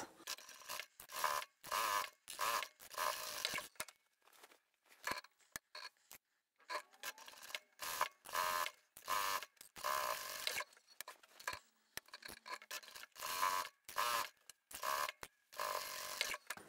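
A sewing machine stitching up the sides of a large fabric duffle bag, running in quick, loud bursts of mechanical whirring separated by brief pauses as the fabric is repositioned.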